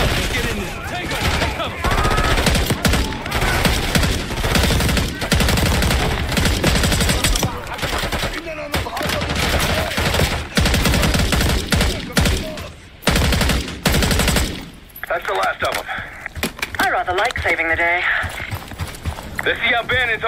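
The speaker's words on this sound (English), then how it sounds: "We're taking heavy fire at the helo." Sustained automatic gunfire in the shooter game Call of Duty: Black Ops 6, a dense loud battle around a downed helicopter with rapid bursts, explosions and clattering effects, under game dialogue, easing into quieter combat near the end.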